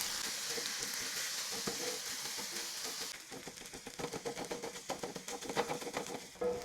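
Rice for shrimp and egg fried rice is tossed in a hot pan over a portable gas burner, two spatulas scraping and clacking in a quick, steady rhythm over a soft continuous sizzle.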